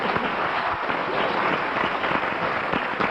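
A studio audience claps to vote on a panel game round, with a dense, fairly loud burst of clapping that fills the whole moment.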